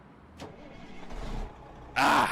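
A truck engine in American Truck Simulator cranks briefly, then catches and settles into a low idle before jumping into a loud, bright roar near the end, heard alone with no talk.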